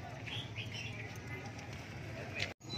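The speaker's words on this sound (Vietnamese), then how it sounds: "anh em xem em chim họa mi này" A Chinese hwamei songbird at a bird market gives a few quick, bright chirping calls early on and one more near the end, faint against a low background murmur of people talking.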